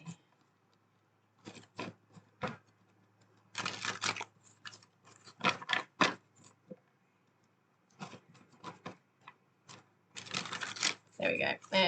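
Bursts of tarot card shuffling riffle in short clusters separated by brief pauses, close and fairly crisp, with no talking.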